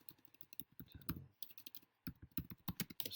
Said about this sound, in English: Let's type in Tallinn.